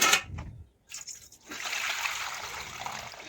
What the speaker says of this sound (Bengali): এই ঘন জলটা বা গাঢ় জলটা এখন আমি ফেলে দেব